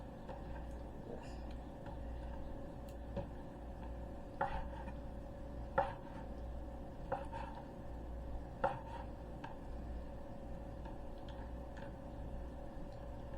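Irregular knife chops through raw turkey on a cutting board, a few sharp knocks spaced seconds apart over a steady low room hum, no talking.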